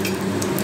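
Black cumin seeds and a split green chilli fry in hot oil over medium flame for a Bengali brinjal dish, giving a steady close sizzle with no talk.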